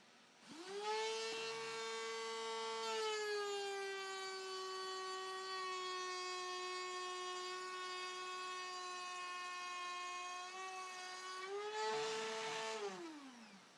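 An Enjoywood mini router table with a shop vac hose attached spins up to a steady, high whining hum while cutting wood, holding the tone for about ten seconds before winding down, loud and close.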